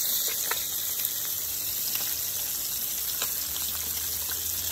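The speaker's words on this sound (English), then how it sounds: "You got to be careful when you're frying fish too, because it will splatter on you." Fish frying in a pan of hot oil for Jamaican stew fish, a constant close hiss and crackle with a faint high whine above it, no talking.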